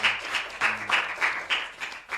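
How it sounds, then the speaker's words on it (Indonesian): Audience applause for a guest named Mbak Eka at a Geber podcast taping at SMK 8 Surakarta: a brief, moderately loud patter of clapping that swells and ebbs in uneven waves, with no voices over it. "Dan teman-teman tepuk tangan untuk Mbak Eka"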